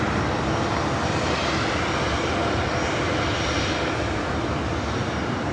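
A 23-year-old Delta Airbus A319 bound for Portland at LAX gives a loud, steady jet roar that holds evenly throughout, with no voices.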